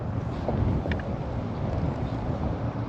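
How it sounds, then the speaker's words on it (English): Steady, heavy wind buffeting outdoors, a constant low roar and rumble with no pauses, loud and close throughout. "Very windy."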